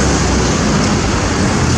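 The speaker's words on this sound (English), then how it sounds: "Oh, there's a vintage car." A loud, steady roar of a vintage car going by close up at a vintage car rally in Inverness, with dense road and engine noise throughout and no pauses.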